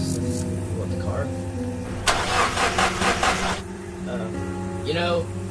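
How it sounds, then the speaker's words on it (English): A car engine cranks and turns over, then runs at an idle in the video game Don't Escape 2, a loud burst in the middle over a steady background of game music. "you'd expect it with the car making noises, it would attract something or someone"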